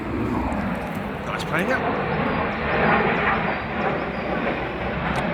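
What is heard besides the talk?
airplane flying overhead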